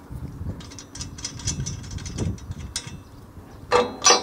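A wrench working bolts off a steel head gate bracket, close metallic ratcheting clicks in short bursts with small scrapes, ending in a sharper clatter of metal.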